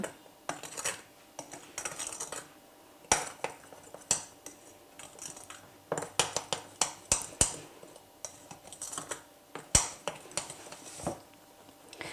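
A spoon clinks and scrapes against a bowl in irregular bursts while thick shortbread cookie dough is stirred, the taps sharp and close with short pauses between.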